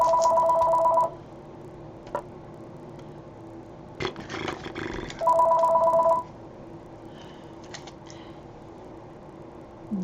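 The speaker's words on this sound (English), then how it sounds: "then the phone starts ringing and everybody wants to talk" A telephone rings in two clear bursts of a two-tone electronic trill, each about a second long, near and fairly loud, separated by quiet room sounds and a brief rustle.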